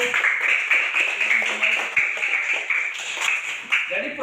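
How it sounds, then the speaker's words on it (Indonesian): A classroom of students claps for a classmate after a reading on human respiration, a dense run of quick hand claps, close and lively, with voices mixed in. "tepuk tangan buat temanmu."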